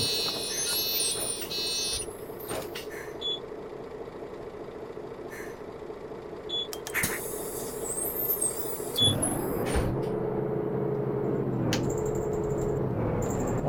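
An articulated bus in the simulator game Omsi 2 runs at full throttle, its engine a steady low drone building louder toward the end, with intermittent high electronic beeps and chimes from the dashboard over it.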